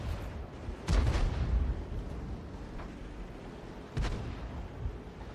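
Artillery gun firing in World of Tanks, with two heavy booming shots a few seconds apart, each trailing off into a rumbling battlefield background with no voice.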